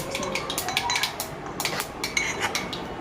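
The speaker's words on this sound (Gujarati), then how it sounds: "એવા સરસ મજામાં આપણે પીચી નાખ્યું મરચું" Repeated sharp clinks and scrapes of a utensil against a metal dish as green chili is crushed, steady pounding or mashing rhythm, close and fairly loud, no talking.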